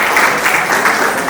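Audience applause at a Kameswari Devi puja festival gathering in Hyderabad: dense, steady clapping from many hands that fills the short moment evenly, with no pauses and no voices standing out.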